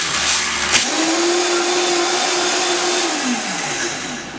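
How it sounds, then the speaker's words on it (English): A Vitamix blender starts with a click and spins up into a loud, steady high-pitched whir, holding close and continuous before the pitch slowly drops near the end. "I'll plug up the Vitamix and get this going."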